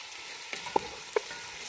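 Chicken pieces coated in ginger-garlic paste fry in a pan, a soft steady sizzle with a few faint clinks and stirring taps, close by with no speech.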